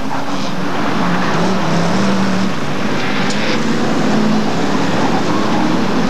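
Hotstox race cars lapping an oval track at Scunthorpe, a continuous loud engine roar with a shifting pitched drone as cars circle, heard from trackside.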